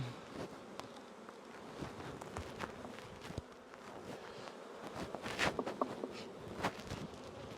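Honey bees hum as a steady low buzz over hive frames, while scattered soft knocks and shuffling sounds from handling the hive come and go.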